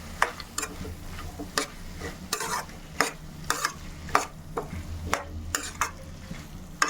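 Curry of dosakaya (yellow cucumber) being stirred after a spoon of salt goes in, a spoon scraping the pan in a steady series of sharp strokes over a low background hum.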